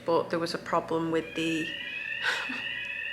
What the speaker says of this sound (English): that's the fire alarm again.